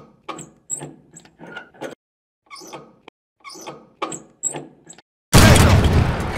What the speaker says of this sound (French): Canon rechargé.